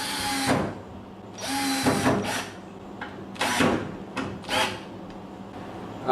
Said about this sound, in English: This screw gun wouldn't live without it. So I think it's a Milwaukee M12 or something.